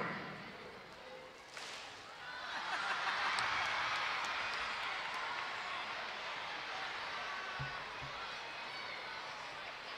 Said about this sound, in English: I'm going to speed it up really fast, so you have to clap fast, quick.